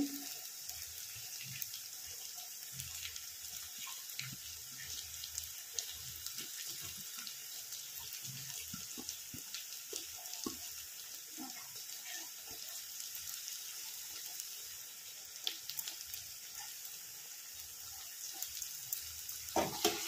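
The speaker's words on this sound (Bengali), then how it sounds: "কেটে রাখা ক্যাপসিকামটা দিয়ে দিলাম, দিয়ে ওটা আবার একটুখানি ভাজতে হবে।" Capsicum sizzles in a pan with onions already fried for Schezwan fried rice, a steady bright hiss with scattered crackles and small stirring clicks running the whole time, no voices.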